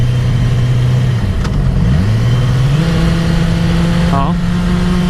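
A 2017 Yamaha R6 motorcycle accelerating and upshifting with the optional quickshifter while the throttle stays open, the engine note dropping sharply at each shift and climbing again, loud and sustained.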